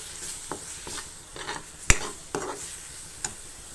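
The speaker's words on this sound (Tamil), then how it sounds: "இப்போ இதில் இஞ்சி பூண்டு பேஸ்ட்டு, மஞ்சள் தூள், மிளகாய் தூள் இதையும் போட்டுட்டு இன்னும் கொஞ்சம் நேரம் இதை வதக்கிட்டு" Ginger garlic paste with turmeric and chili powder being sautéed for a drumstick gravy, a soft sizzle broken by a few sharp scrapes and taps of a spoon against the pan, close by.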